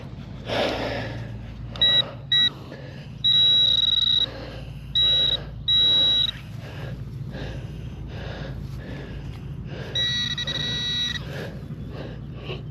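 Repeated electronic signal tones from a metal detector sounding over a clad quarter, loud, bright beeps in bursts of varying length with short gaps, over a low background hum.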